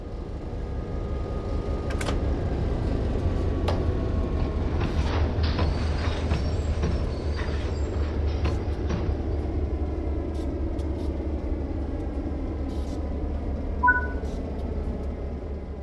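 Freight train of loaded hopper cars in a rail yard in Train Sim World 4 on the Clinchfield Railroad, a steady low rumble with occasional clanks and brief squeals, continuous throughout.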